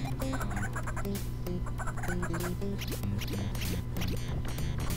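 Video game chickens cluck in quick repeated bursts over steady game music on a ToeJam & Earl level, the clucks close and frequent, with no talking.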